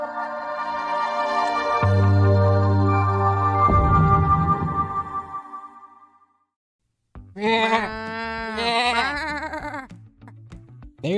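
Wavering, nasal bleats of sheep rise and fall over several seconds, following a stretch of steady droning tones and a brief silence.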